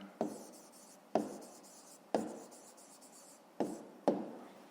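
Pen strokes on notebook paper while a school math answer is written down, five separate sharp scratching bursts about a second apart, each fading quickly, close and alone.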